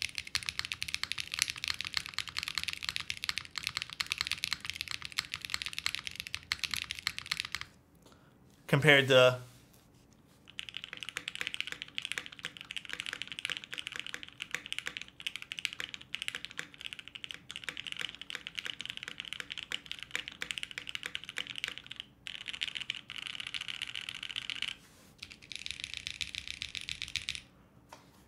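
Rapid, steady typing on an HHKB-layout mechanical keyboard with MX switches, dense close-up clacking in long bursts separated by short pauses, with a brief spoken phrase partway through.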